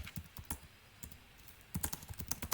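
Typing on a computer keyboard, quick clusters of light clicks separated by a short pause, close and quiet with no voice.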